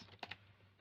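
Two quick, crisp keystrokes on a computer keyboard, tapped close together while a command is entered on a Linux setup for an Asus Chromebit CS10, with a steady low hum underneath.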